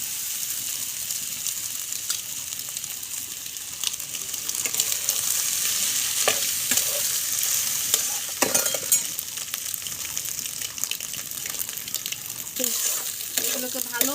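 Boiled grated eggs and potatoes are stirred into a frying mixture in a pan for egg cutlets, with a soft sizzle under repeated spoon scrapes and clinks that come in scattered bursts.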